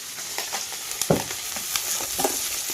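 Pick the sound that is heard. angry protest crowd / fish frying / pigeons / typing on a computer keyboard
fish frying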